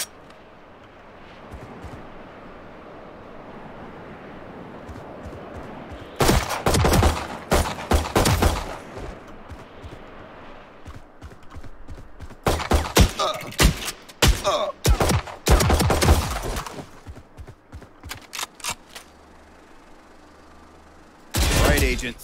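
Rifle fire at targets and bots in Valorant: sharp gunshot bursts in rapid clusters, a long volley, several shorter strings and a final burst, close and loud over a quiet hum, with an instructing voice in places.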